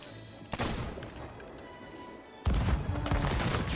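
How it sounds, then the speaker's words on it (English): Explosive blunderbomb blasts from Sea of Thieves strike a ship, arriving as two heavy bursts of booming impacts and crackle, the second louder and closer. "They're blunder bombing us."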